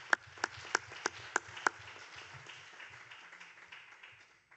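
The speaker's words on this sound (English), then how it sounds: "I think they need they can get a round of applause for organizing all of this." Faint, sparse applause from a forum audience, a handful of distinct claps in a quick steady rhythm that stop early, leaving a quiet room tone.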